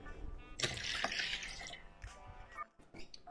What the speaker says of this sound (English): Now, the apple juice.